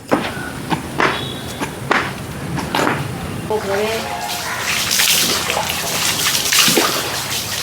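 Water is poured and splashed during a bath, with a few thuds near the start and then a steadier rush of pouring water close by. A voice talks over part of it.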